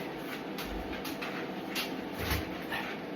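Dogs whimper and let out small yips while being handed biscuits indoors, the sounds close and broken up against a steady background hiss.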